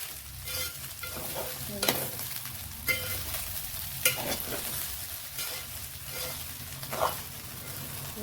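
Chicken fried rice is stirred and tossed in a hot pan: a soft steady sizzle runs throughout, broken by several sharp scraping knocks of the spatula against the pan at irregular intervals.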